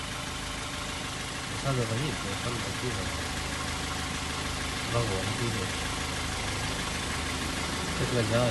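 A 1993 Ford Bronco with a new engine runs at a steady idle, an even mechanical drone with periodic rough surges, and voices talk over it.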